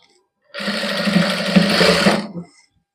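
Sewing machine stitching lace onto the sleeve of a cotton suit, one short close burst of rapid stitching lasting about two seconds, with no speech over it.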